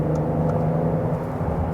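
A Mercedes GLS 400/450 with a torque-converter automatic holds a steady engine drone and road rumble after a downshift to fourth, a continuous mid-loud hum with no voices.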